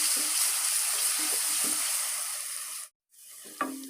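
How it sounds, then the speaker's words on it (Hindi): Onion with ginger-garlic paste frying in a pan for aloo gobi, a steady close sizzle that cuts out briefly near the end, then resumes with a light clink of a utensil. "अब हम इसमें डालेंगे अदरक लहसुन का पेस्ट और अच्छी तरह 3 से 4 मिनट भूनेंगे।"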